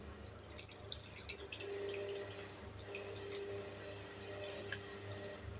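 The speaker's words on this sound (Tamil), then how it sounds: "இப்போ இந்த சாப்பாட்டுக்கு தக்கன நான் புளி கரைசல் ஊற்றிக்கிறேன்." Tamarind extract is poured into a pot of rice for kootanchoru, making a soft, steady trickle with faint drips, heard up close and alone.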